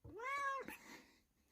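A cat gives a single clear rising-then-falling meow, close and fairly loud, followed by a brief softer trailing sound.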